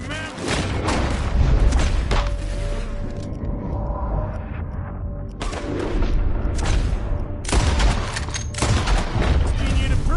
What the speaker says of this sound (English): Told you I could shoot a gun,